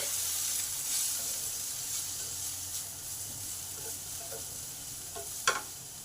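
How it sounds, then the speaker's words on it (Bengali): Ridge gourd and potatoes frying in a covered pan give a steady soft sizzle with faint stirring scrapes and one brief sharp clink near the end, heard close and alone. "8 মিনিটের জন্য চাপা দিয়ে দিলাম, যাতে চিচিঙ্গাটা সেদ্ধও হবে আর ভাজাও হবে।"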